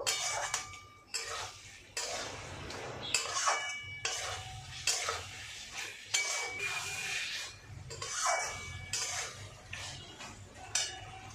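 Fried potatoes being stirred into a spice masala for muri ghonto, metal spatula scraping and clanking against the pan in repeated strokes, with a soft sizzle underneath, no voices.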